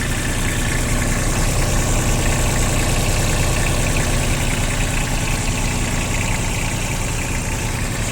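A Mitsubishi MT-161 mini tractor's small diesel engine idles steadily nearby, a loud, rough, continuous chugging with no voices over it.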